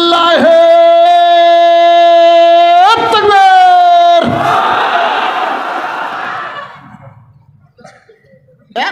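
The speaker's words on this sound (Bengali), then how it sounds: "একবার তাকবীর দেওয়া লাগবে" A crowd at a rally shouts a takbir chant in unison, with loud, sustained, harmonic voices. A brief break is followed by a second surge, then a noisy roar of many voices that fades.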